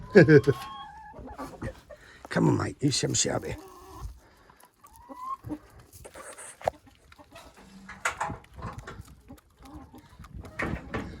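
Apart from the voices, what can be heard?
chickens clucking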